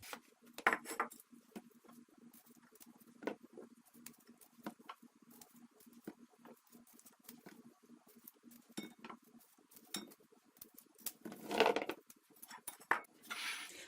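A knife trims the ends off gherkins for mixed pickles, giving soft, sparse cuts and light clinks against a board or dish, fairly quiet with one louder clatter near the end.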